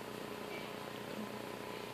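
A cat resting on a box purrs softly in a steady low rumble, close but faint against quiet room noise.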